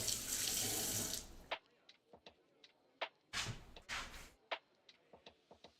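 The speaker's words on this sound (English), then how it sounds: "So I am going to rinse this apple stuff off" Water runs from a sink tap as apple mixture is rinsed off, loud at first and stopping after a second and a half. It starts again briefly, and light clinks and taps of handling follow.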